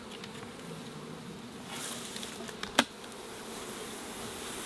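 Honeybees buzzing around a nucleus box beehive in summer, a steady soft drone from many bees with a brief louder pass of one bee close by, no talking.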